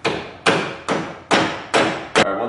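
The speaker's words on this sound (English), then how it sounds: "put the pin in, tap it into place with the hammer" A hammer tapping a pin into a spindle on an EZGO TXT golf cart during a lift kit install, five sharp close metallic taps at an even pace with no talk.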